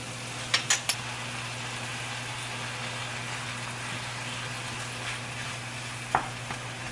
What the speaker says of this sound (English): I'm picking up all the onions now as I cook this thoroughly